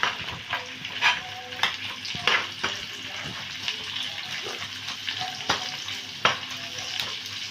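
Chopped vegetables stir-fry in a hot pan for egg fried rice, a continuous sizzle broken by repeated scraping and tossing strokes of a spatula, close and clear.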